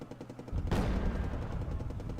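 Tanks fire in a war video game: light rapid shots give way to a loud, booming blast that dies off into rumbling echoes.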